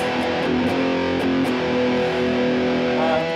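Heavily distorted electric guitar through a heavy Marshall amp with extra distortion plays sustained, buzzing chords with a few picked accents, loud and alone with no talking.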